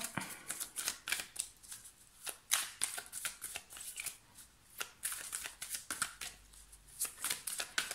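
Tarot cards are shuffled up close for a July horoscope reading, producing a rapid, continuous riffle of crisp papery flicks and slaps that rises and falls in bursts over several seconds, with no voice.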